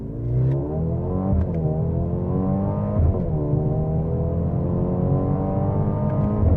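Engine of a Mercedes-AMG GLB35 SUV accelerating hard in Sport Plus mode, heard from inside the cabin as a steady rising drone with quick gear-shift dips, loud and continuous with no talk.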